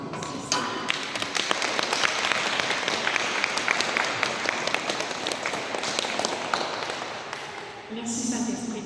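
A church congregation claps loudly together in acclamation of the Holy Spirit, a dense, steady roar of applause with sharp individual claps, sustained throughout and easing near the end.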